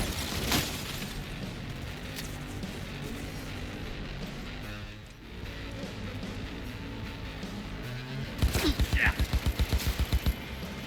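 Automatic gunfire from a weapon in Cyberpunk 2077, a continuous rattling burst under game noise, ending in a sharper, louder string of rapid close shots.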